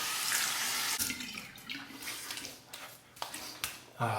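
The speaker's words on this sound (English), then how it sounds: "A final cold water rinse." Cold water runs steadily from a tap, splashing and gurgling as a face is rinsed beneath it after shaving, with a few brief interruptions in the flow.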